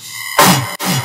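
Dubstep main bass synth, a short, loud, gritty burst that cuts off abruptly and restarts after a brief gap, played alone.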